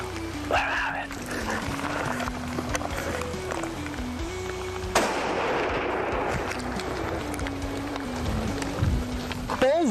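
A single sharp hunting gunshot cracks outdoors midway through, loud and sudden, over a steady background of music, with brief sounds after it.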